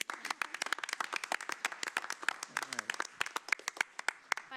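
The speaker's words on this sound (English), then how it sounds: "I think we should have at least one round of applause here" Sparse applause from a small audience at a county board of commissioners morning meeting, with individual claps standing out in an uneven rhythm over several seconds and a voice speaking briefly underneath.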